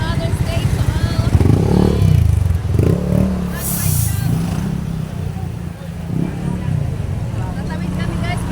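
A motorcycle engine runs steadily close by on a rural road trip, a continuous low rumble with occasional clatter, heard under people talking.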